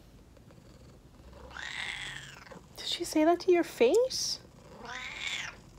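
A pet cat meows several times in a short, rising series of clear calls close by, with soft purring faintly underneath, while a person talks near the start.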